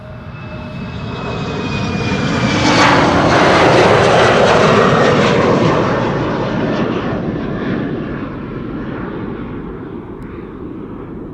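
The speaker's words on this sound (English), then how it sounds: "737-900 to Catania behind it." A Boeing 737-900 jet departing Amsterdam Schiphol Airport, its engine roar swelling to a loud peak and then slowly fading as it climbs away, with no one talking.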